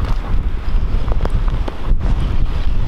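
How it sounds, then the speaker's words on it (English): Strong wind ripping across open ice during a snowstorm on an ice-fishing outing, a loud, steady roaring rush with buffeting gusts battering the microphone throughout, no voices. "Gee, wind is ripping, snowing."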